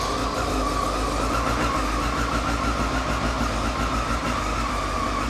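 A 2002 Honda CBR954RR FireBlade motorcycle idles steadily nearby, a smooth, even engine hum with a faint mechanical whine and no voices over it.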